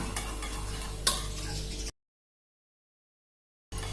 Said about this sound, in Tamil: இப்போ இதை முட்டை கூட நல்லா மிக்ஸ் பண்ணி விட்டுறலாம்